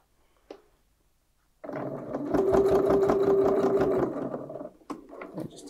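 Sewing machine stitching a few tacking stitches to hold pieces of a reversible vintage clutch bag near the edge; a brief click, then a steady close mechanical whir running for a couple of seconds before stopping, followed by small handling knocks.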